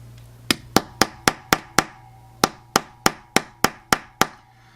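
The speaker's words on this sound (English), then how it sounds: "soft side of the hammer" A dozen sharp metallic hammer taps with the soft side of a hammer on a small pin of an Invicta Pro Diver watch band, evenly paced with a brief pause midway, close and crisp over a faint steady hum.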